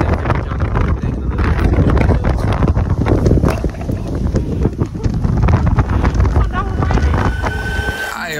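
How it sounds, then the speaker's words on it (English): Gusty Arctic wind in bitter cold, roaring loud and continuous against the microphone with repeated buffeting bursts across the whole stretch. "The wind gusts."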